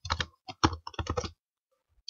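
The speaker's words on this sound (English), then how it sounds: "I'm just typing in the URL of the second website that we're going to open," Typing a URL on a computer keyboard: bursts of close, crisp key clicks in quick irregular clusters, then a pause and one final tap.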